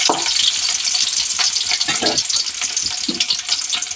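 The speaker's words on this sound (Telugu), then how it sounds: "ఉల్లిపాయలు అయితే వేద్దాం. ఒకసారి అయితే కలుపుకుందాం." Sliced onions sizzle and crackle steadily in hot oil while being stirred for a chicken liver fry, a loud continuous frying hiss with scraping stir sounds throughout.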